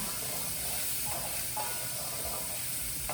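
Bacon browning in a pan while its fat renders for coq au vin: a steady, dense sizzle and crackle with a few brief pops, with no voices.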